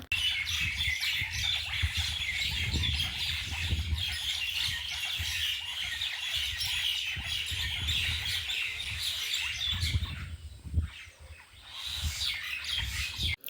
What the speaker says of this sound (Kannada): ಬೆಳಗ್ಗೆನೇ ನಾನು ಪಕ್ಷಿಗಳು ಸೌಂಡ್ ಕೇಳಿ ಎಲ್ಲೋ ಅವು ಆಟ ಆಡ್ತಿದ್ದಾವೇನೋ ಅದಕ್ಕೆ ನೋಡೋಣ ಅಂತ ಬಂದೆ.